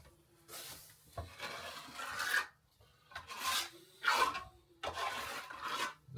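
Plaster is spread onto a blown wall being repaired, in repeated rasping, scraping strokes with short pauses between them, close and fairly quiet.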